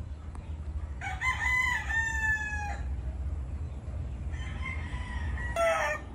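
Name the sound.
Raptor Sweater broodstag rooster crowing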